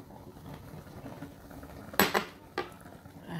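A metal pot and utensils clink while crayfish is added to ogbolo soup on the stove, two short sharp clanks over a quiet low kitchen background.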